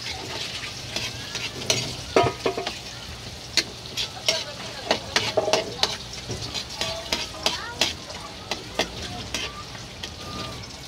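Onion and chayote frying with sardines in a pan, a steady close sizzle broken by repeated scraping and stirring clatters throughout.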